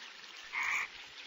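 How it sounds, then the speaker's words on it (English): Male frogs croaking during the monsoon breeding season, a single short burst of croaks rising out of steady background noise at moderate distance. "With the onset of the monsoon, it is common to hear croaking sounds."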